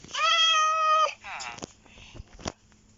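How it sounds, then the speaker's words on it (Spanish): A domestic cat gives one long, loud, tonal meow close by, then a few shorter, softer vocal sounds follow. "Ay, gato."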